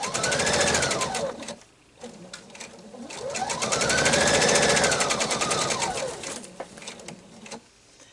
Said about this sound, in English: We will sew that on.